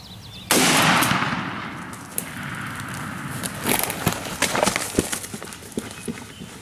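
A single loud, close shotgun blast goes off during a spring turkey hunt, with a decaying echo rolling out behind it and rustling and movement sounds afterward.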